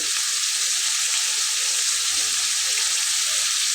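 Beef sizzles steadily in a hot pan as spices are stirred in, a dense, even frying hiss running close and loud throughout with no talking.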